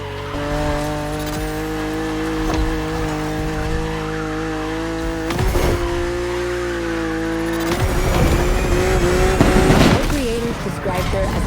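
A BMW driven in the racing game The Crew Motorfest, its engine holding a steady tone, with brief tire screeches and skids and a rising rev near the end, all under game music and a voice.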